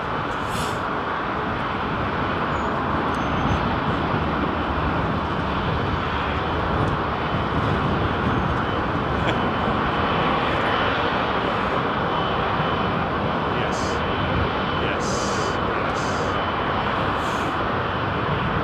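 An airliner departs London Heathrow Airport at sunset, its jet engines producing a loud, sustained roar that holds steady for the whole stretch without any talk.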